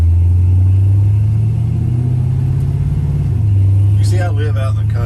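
LS-swapped 1970 Chevy C10 engine idling around 750 to 800 RPM, a loud, steady low rumble close by, with someone talking over it near the end.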